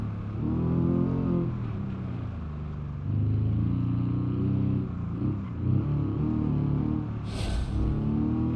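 Racing car engines in the BeamNG.drive video game roar at a steady loud level with harmonic drone, dipping briefly between revs, with a short high hiss near the end.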